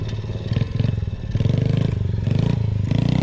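Dirt bike pulling away in first gear on a desert trip, a close, pulsing engine chug with rapid firing beats that swell as it gets going, with faint clatter and scraping.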